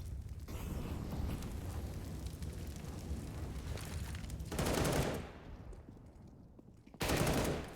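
Gunfire in a CS:GO match between BIG and Ninjas in Pyjamas on Mirage, a dense wash of shots under a steady roar, with sharper bursts of fire breaking through toward the end.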